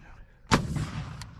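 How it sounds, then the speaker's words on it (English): A single sharp, loud blast of a rocket fired during Marine fireteam maneuvers in Japan, followed by a rumbling tail and a fainter distant crack shortly after. "Rocket!"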